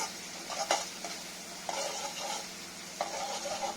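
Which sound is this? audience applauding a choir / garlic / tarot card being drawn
garlic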